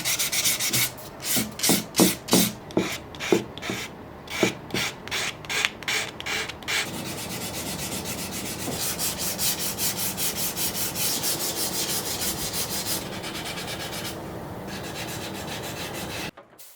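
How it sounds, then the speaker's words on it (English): A walnut fruit bowl is hand-sanded with 320 grit sandpaper, first in distinct rhythmic rasping strokes, then as a continuous close, dry scrubbing. "I then used 320 grit for the final sanding, which I did it by hand on the inside and the edges."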